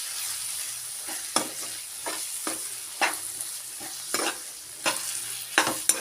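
A spoon stirs chicken curry with chicken masala in a sizzling pan. Scraping strokes repeat in a loose rhythm over the soft, steady frying hiss, close up, with no talking.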